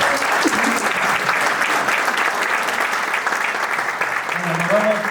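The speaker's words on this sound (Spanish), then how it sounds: "un aplauso nuevamente para todos" Audience at a public discussion on the future of the San Matías Gulf breaks into sustained, even applause, with a brief voice rising near the end.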